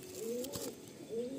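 A pair of Malwai pigeons, a cock and a hen, coo close by in two drawn-out, gliding calls with a brief pause between them, clear and without talk.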